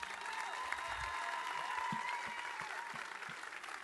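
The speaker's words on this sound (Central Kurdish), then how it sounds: "چەپڵەیەک جارێ" Concert audience applauding, a steady patter of many hands at moderate distance, with faint voices underneath.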